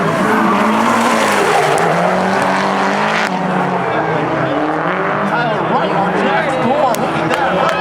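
Loud engines roaring as two drift cars skid side by side on a track at a twin drift event, tires squealing continuously, with an announcer's excited voice talking over the din.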